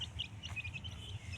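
Pet quail and chickens kept at home call with a run of short, high chirps and tweets. The calls repeat irregularly over a steady low background hum, fairly close and moderately loud, with no talking.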